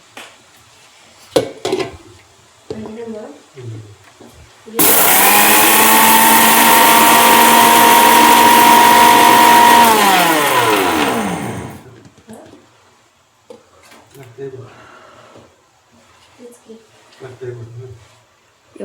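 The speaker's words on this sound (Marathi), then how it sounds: "ह्याला आपण ग्राइंड करून घेऊ" A mixer grinder whirs loudly for about seven seconds, grinding a bowl of sugar fine for milkshake, winding down with a falling pitch; quieter handling noises and voices come before and after.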